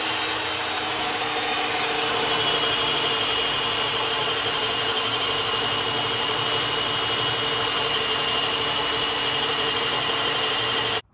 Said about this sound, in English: So now I just got to drill down in each direction.